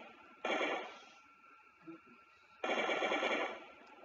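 Glock pistol fire in the game Gmod: two loud bursts of rapid shots, the second longer, with a faint thump between them.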